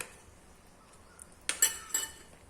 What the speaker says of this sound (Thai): คนให้เข้ากันเลยนะคะ